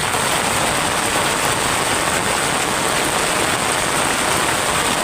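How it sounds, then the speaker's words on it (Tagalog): Heavy rain pours down in a loud, steady roar of hiss with no pauses, close by and alone. "ang lakas ng ulan oh"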